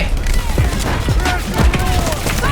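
MP5 submachine gun firing in the shooter game Delta Force, loud rapid bursts of shots with thumping impacts, close and continuous.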